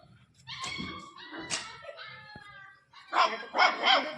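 Dogs in a residential street bark and yip in scattered, uneven bursts at moderate distance, with the loudest barks near the end.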